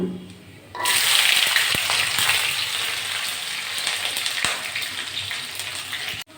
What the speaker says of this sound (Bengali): রসুনটা একটু ভেজে নিয়েছি